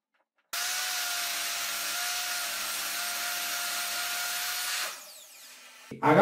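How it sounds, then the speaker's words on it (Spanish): Sanding or rubbing on a wooden crossbar for workshop shelving, one continuous steady abrasive hiss lasting several seconds that then stops, followed by a brief clack at the end. "Vamos a poner el siguiente travesaño."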